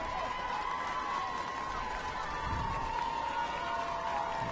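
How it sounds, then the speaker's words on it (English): Lake Highlands fans at a boys high school lacrosse semifinal send up a steady, distant roar of cheering that stays broad and even throughout, with no talk heard clearly over it. "The Lake Highlands crowd begins to... They're starting to come to life."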